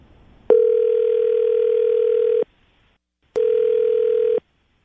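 A telephone line tone sounds while a call is placed, loud and steady: one long tone of about two seconds, a pause, then a second shorter tone, with nothing else heard.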